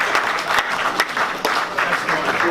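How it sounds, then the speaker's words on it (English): Applause from an audience at a Melaveh Malkah evening gathering, a dense wash of clapping hands that stays steady and fairly loud for the whole stretch. "So let's give him a big hand."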